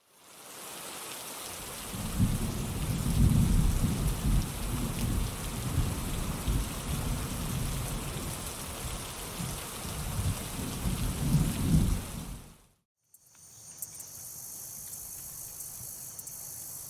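Steady rain pours down with low rolling thunder and crickets chirping, then the storm cuts off abruptly into a quieter insect-filled night.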